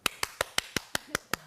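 Sharp, evenly spaced claps ring out in a church Bible lecture hall, eight crisp beats in quick rhythmic succession with near silence between them.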